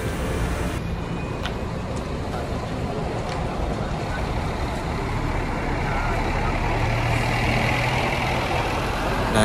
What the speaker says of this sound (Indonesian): itu mungkin unitnya mau parkir di belakang karena lebih dekat dengan prasmanan ya